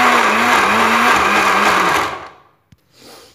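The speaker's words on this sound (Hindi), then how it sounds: "ग्राइंडर में मैंने डाल दी है बादाम, और उसके साथ मैं अभी आधा दूध डाल दूँगी" A mixer grinder whirs loudly, grinding almonds with milk into a fine paste for badam ki jali, its motor steady with a wavering pitch before winding down, followed by a brief clack and a faint rattle.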